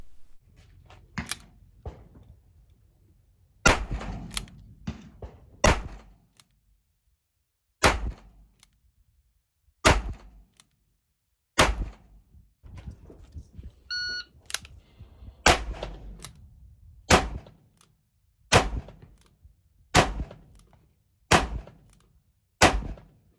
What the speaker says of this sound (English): This gun is such a joy to shoot. It is so heavy that it just soaks up recoil.